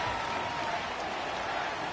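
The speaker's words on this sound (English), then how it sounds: "The crowd's not doing that O-line any favors." Broad, steady roar of a stadium crowd at an NFL Monday night game between the Tennessee Titans and the Dallas Cowboys, loud and continuous with no distinct breaks.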